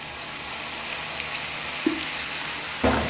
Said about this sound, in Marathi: आता याच्यामध्ये 200 ml विनेगर आपल्याला टाकून घ्यायचे.